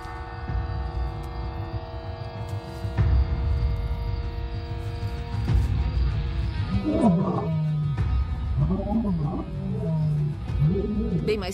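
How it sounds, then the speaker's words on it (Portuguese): Lions roar at night in the bush around a lodge, giving deep, drawn-out calls early on, with a voice talking over the later part. "eu continuei ouvindo rugidos no campo e ao redor do alojamento"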